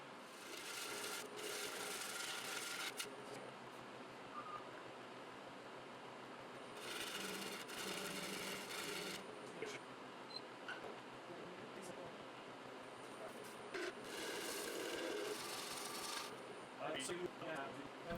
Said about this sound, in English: I'm just not super smooth with how I push the gouge forward.